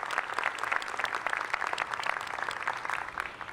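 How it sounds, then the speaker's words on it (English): An audience applauds a vocal quartet at a university welcome ceremony for new students, a dense, even roar of many hands clapping at once, sustained and moderately loud with no talk over it. "Let's give them another round of applause."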